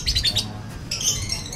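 Pet lovebirds chirp in bright, rapid bursts, a cluster of high tweets followed by a short pause and another burst, close and clear.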